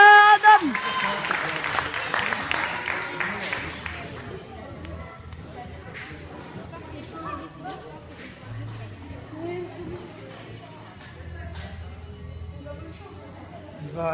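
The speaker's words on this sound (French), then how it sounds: "On peut les applaudir." A burst of clapping from an audience at an amateur boxing semi-final opens the clip, then fades into scattered shuffling, murmurs and footsteps, with voices talking in the background.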